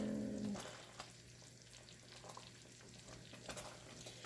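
Carrot cake jam bubbles in a pot on the stove, a faint, steady sizzle with soft popping bursts, heard up close and quiet with no voices.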